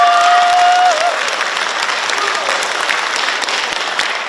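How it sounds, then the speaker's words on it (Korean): An audience at a book launch event bursts into loud, sustained applause, dense and even throughout, with a brief thin tone at the very start. "제 소개에 동의하시면 박수 한번 보내주십시오"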